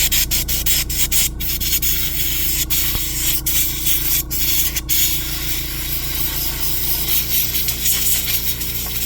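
Close, steady rubbing on a Babyliss FX3 clipper blade part, a continuous scraping friction with slight rhythmic variation and a few brief clicks, no voices.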